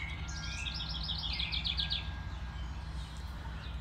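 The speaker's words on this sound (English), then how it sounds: "So there's the house wren, robin singing down the street." House wren and robin singing down the street, caught on a phone: a bright, rapid bubbling trill of chirps rises clearly for about two seconds over a low background hum, then fades to quiet ambience.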